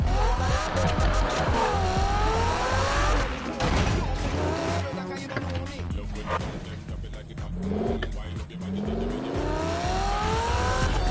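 Porsche engine in a PS4 racing game, revving up and down through gear changes with rising and falling engine whine, loud and continuous, with a tire squeal partway through and people talking over it.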